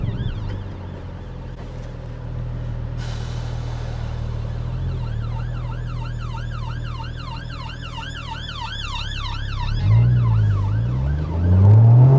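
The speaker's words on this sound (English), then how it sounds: "Yeah, another ambulance." A loud wailing ambulance siren sweeps up and down steadily over the hum of a Porsche engine with an Akrapovic exhaust, growing closer, with the engine revving toward the end.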